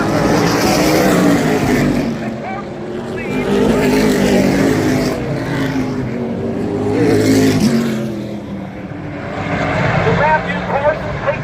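Race cars in the Bryce Keyser Fly By 80 running down a speedway backstretch, with loud sustained engine roar rising and falling as the pack passes, under continuous commentary.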